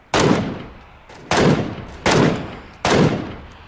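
Four loud, sharp gunshots from a weapon in PUBG, fired one at a time at roughly one-second intervals, each with a decaying echo tail, close and clear with no talking.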